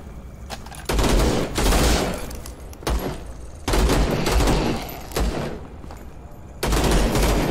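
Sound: burst fire gunshots in a video game

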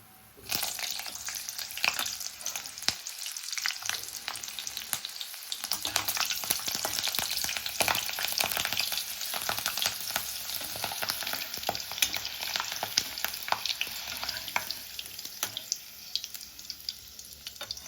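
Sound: frying green chillies in oil

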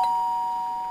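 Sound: doorbell ringing

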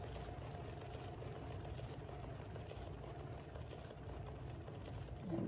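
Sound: paint spinner spinning an abstract painting

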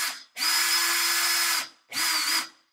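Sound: cheap Temu cutting tool spinning against aluminum

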